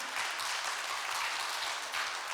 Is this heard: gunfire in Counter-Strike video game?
no